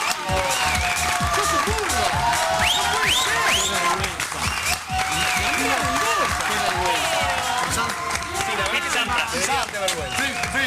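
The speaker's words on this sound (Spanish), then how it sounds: "fuerte el aplauso para recibir a la señora Andrea del Boca" A television studio audience applauds and cheers to welcome actress Andrea del Boca, loud clapping and crowd noise mixed with overlapping voices and shouts throughout.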